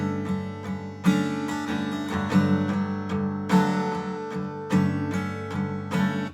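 Electric guitar playing a part from a song, with a small extra note played by the pinky, a steady picked pattern of ringing notes and chords, clear and close with no talking over it.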